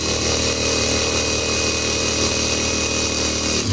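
A Laxton LX25 impact wrench runs continuously at its third speed setting, a steady loud motor whine with dense mechanical buzz and no breaks, heard alone at close range.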